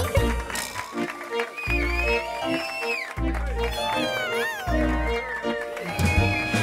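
A voice sings a playful tune built from repeated meowing sounds, imitating a cat over bouncy backing music.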